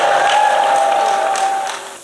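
A church congregation applauds and shouts in acclamation, a dense wash of clapping and raised voices sustained for a couple of seconds before easing off.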